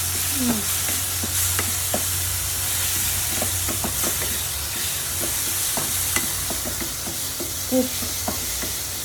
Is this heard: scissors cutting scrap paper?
no